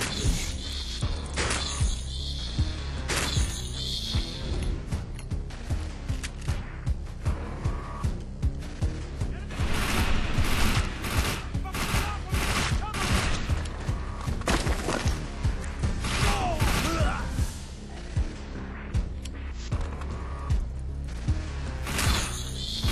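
Shotgun gunfire in the shooter game Defiance, with loud, repeated blasts and impacts coming in dense, irregular bursts across a chaotic stretch of combat noise.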